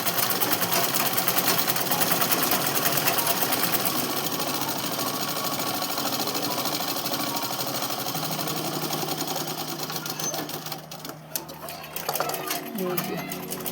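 A sewing machine runs steadily while stitching the folded edge of a coat suit, its fast needle chatter continuous and close before slowing and stopping near the end, with a voice speaking faintly beneath.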